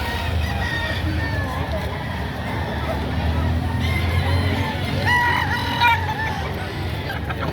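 A Hiraw bullstag rooster crows amid a busy chicken market, its harsh call rising clearly over steady crowd babble and nearby voices.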